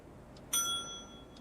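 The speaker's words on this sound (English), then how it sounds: "Ring the desk bell and smile." A single bright desk bell ding in an indie video game, struck once and ringing out with a clear metallic tone that decays over about a second against a faint background hum, with no talking.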